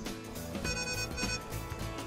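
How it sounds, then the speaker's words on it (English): Cross-traffic alert in a Lincoln MKZ, quick repeated electronic beeps chiming from the cabin over low road and interior noise. "It beeps, and the little light flashes in the corner."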